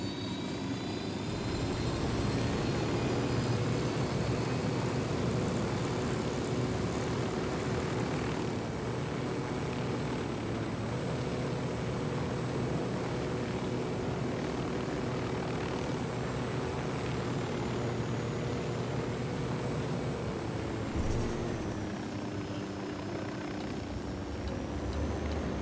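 The aircraft's engine in the game Ghost Recon Wildlands, cranked up into a loud, steady propeller drone with a high whine on top that holds throughout and shifts slightly in pitch near the end.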